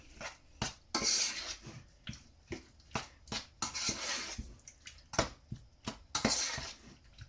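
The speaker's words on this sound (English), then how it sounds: "we're going to give all that a good mix together" Dishes clatter as a spoon scrapes and clinks through tomato puree in a pan for a vegetarian pasta bake, giving repeated close metallic taps and stirring scrapes in an uneven rhythm, with no talking.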